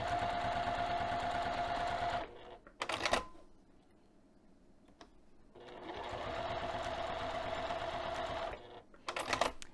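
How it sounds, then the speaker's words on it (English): A sewing machine runs a lengthened 3 mm tap stitch along a bag strap in two steady, loud bursts of rapid stitching, each ending in a few clicks and clatters, with a quiet pause between them. "I'm going to take this one over to the sewing machine and show you how I tap stitch"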